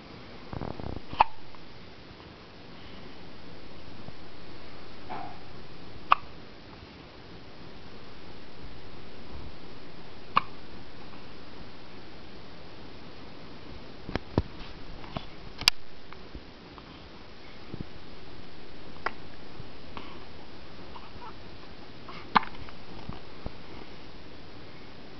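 A small child named as having the hiccups gives a series of sharp, isolated hiccups, roughly five or six of them spaced irregularly a few seconds apart, heard up close over quiet room tone with light rustling in between.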